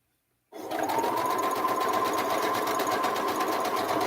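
A sewing machine starts after a brief silence and runs steadily, a loud, even, fast stitching whir held close up without pause, with no voices.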